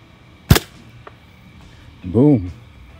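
Scout XT slingshot shot at full butterfly draw striking a pumpkin: one sharp, loud snap with a faint follow-up tick, then a short nasal voice-like sound.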